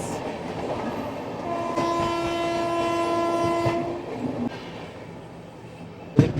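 The Kulik Express arriving at a station: a steady rail rumble with a long, loud horn blast lasting a few seconds, then the clatter of passing coaches.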